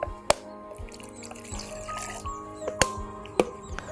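Drained water from soil mixed with compost is poured into a measuring container, giving a light trickle and splash with a few sharp clinks and knocks, close up and without talking.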